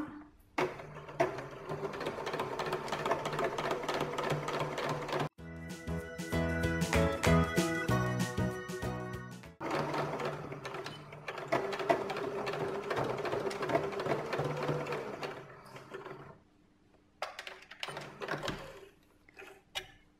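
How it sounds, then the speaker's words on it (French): A sewing machine stitches two hat brims together in rapid mechanical bursts, with a short quiet pause between runs and a faster, denser run in the middle. It is close and fairly quiet, with no talking. "On va coudre maintenant donc les deux bords."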